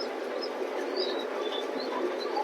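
A female racing pigeon in a loft, giving soft, breathy coos over a constant rushing background noise, with a few faint chirps scattered through.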